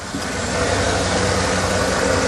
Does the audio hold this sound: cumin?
no